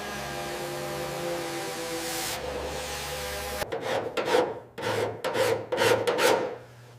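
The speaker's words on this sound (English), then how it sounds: "Sanding a car this big takes patience." Close-up sanding of the metal body of a 1959 Cadillac Eldorado Biarritz during restoration. A steady droning hum gives way to a series of rough, rhythmic rasping strokes, each one short and scratchy.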